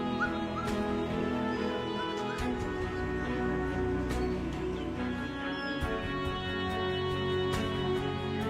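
African wild dog pups whimpering and yipping at a den in Zimbabwe's Save Valley Conservancy, a steady run of high, thin whines and soft yelps repeating close by over a constant background hum.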